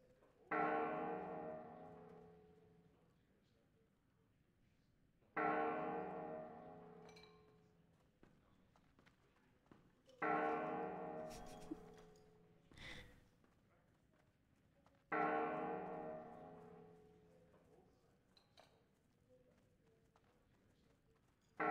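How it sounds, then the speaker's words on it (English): Heavy bell tolls in World of Warcraft, four loud strikes spaced about five seconds apart, each decaying slowly, with faint hoofbeats and light footsteps underneath. "We're here just in time for the bells"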